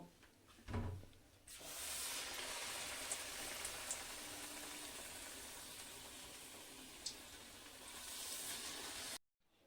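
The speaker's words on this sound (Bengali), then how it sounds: "এবারে ব্যাটারটার মধ্যে এই পাতলা পাতলা করে কেটে রাখা বেগুনগুলো দেব, আর গরম তেলে ভেজে নেব।" Battered thin eggplant slices fry in hot oil with a steady, faint, rain-like crackle. A soft thump comes just before the sizzle.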